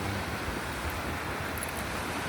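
Sea waves wash on a beach while wind buffets the microphone, producing a steady, loud, unbroken roar of surf and gusts with no voices.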